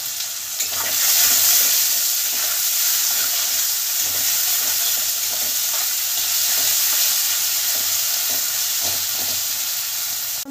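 Sliced onions with cardamom sizzling and frying in hot oil in a pan for Bengali bhuna khichuri, a continuous loud crackling hiss with occasional stirring scrapes throughout.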